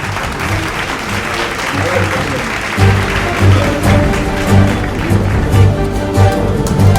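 An audience at the inauguration of Shahjahan Hospital claps in a sustained, dense burst, with a voice and a low rhythmic thumping running underneath and the applause swelling stronger partway through.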